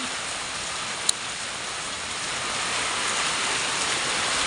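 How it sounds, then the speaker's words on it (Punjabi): Dense, constant downpour with strong wind hisses evenly throughout, loud and close, with a single sharp tick about a second in. "ਮੀਂਹ ਵੀ ਬਹੁਤ ਪੈ ਰਿਹਾ"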